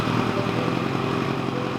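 A rebuilt 1986 Kawasaki GPZ1000RX motorcycle engine runs steadily at a close, loud, even idle, its rapid firing pulses continuous throughout the short stretch with no voices.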